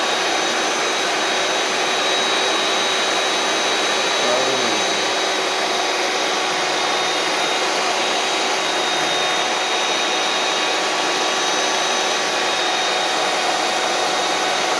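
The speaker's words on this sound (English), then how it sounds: "Let the mixer do the work." An electric mixer whirs steadily through chocolate cheesecake batter, a loud continuous motor drone that holds unbroken for the whole stretch with no talk.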